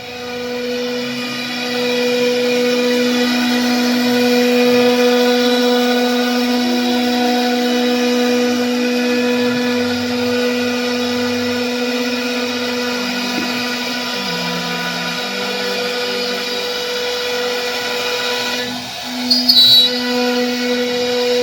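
A power tool cutting wooden doors gives off a loud, continuous droning whine with a steady pitch for about twenty seconds, ending in a brief rattle.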